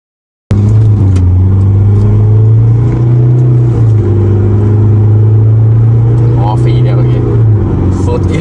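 A remapped car with a blocked EGR valve and large wheels drones loudly from the cabin on a test drive. The engine hum holds steady, then shifts pitch midway as it pulls, with voices talking over it.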